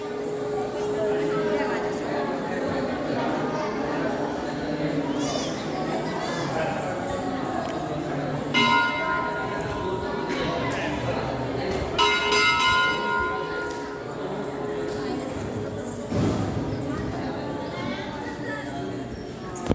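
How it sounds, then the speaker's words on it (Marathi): A temple bell at the Gatha temple in Dehu rings out in a few clear, resonant strikes over a murmuring background of people talking nearby. "घंटी वाजवली आपण"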